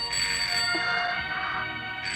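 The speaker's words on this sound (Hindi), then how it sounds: "टेलीफोन की घंटी बज गई" A bright electric bell rings continuously and loudly, a rapid metallic trill with no voices, like an old telephone ringing.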